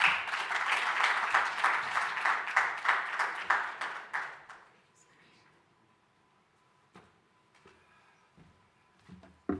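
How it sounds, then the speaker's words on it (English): A crowd at a platform launch event applauds Professor Wakabamba Silas with a strong wave of clapping that fades out after about five seconds, leaving quiet room noise and a few scattered sounds. "Another round of applause for Professor Wakabamba Silas"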